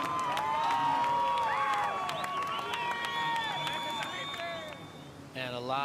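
A lively Latin crowd cheers and shouts for a surfer at the Surf City El Salvador Pro surf contest, a loud sustained roar of many voices with whistles and calls, and a commentator talking over it.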